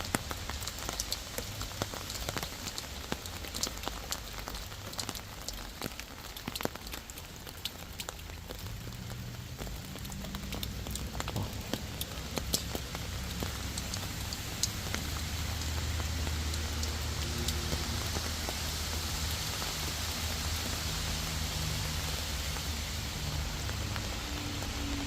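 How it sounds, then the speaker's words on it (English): Light rain pattering on the body of a Tesla Cybertruck outdoors, a soft continuous hiss of many small drops with scattered sharper ticks, fairly quiet and steady, no talking. "You can hear the sound of the rain on it."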